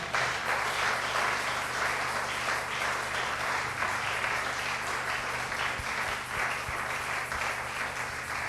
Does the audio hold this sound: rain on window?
no